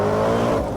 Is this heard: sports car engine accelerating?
yes